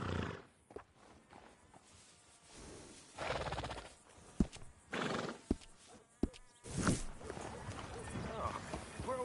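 A horse whinnies in Red Dead Redemption 2, with clip-clop hooves and footsteps at a stable, several sharp neighs rising above a voice talking and faint buzzing flies.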